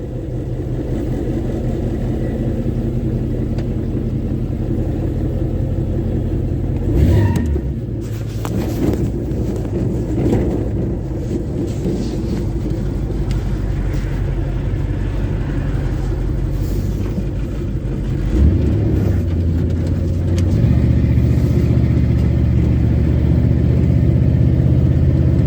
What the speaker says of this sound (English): we're going to try to pull it out, take it for a drive, see how it goes